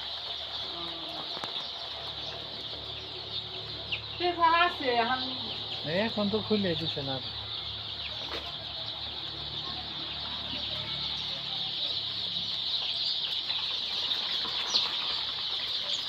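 Nine-day-old chicks on a native poultry farm make a steady, dense chorus of high peeping throughout, with some louder fowl calls in the middle and someone speaking briefly nearby.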